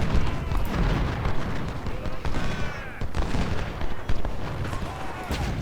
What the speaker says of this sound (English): Our 6-pounder field guns on this side can now also open up fire.